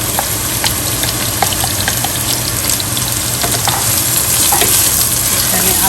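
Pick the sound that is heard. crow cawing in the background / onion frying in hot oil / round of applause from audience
onion frying in hot oil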